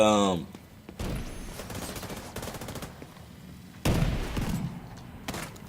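Gunfire in a PvP match of the shooter game The Division 2 comes as two rattling bursts of automatic shots, close and fairly loud, following a brief voice-like sound at the start.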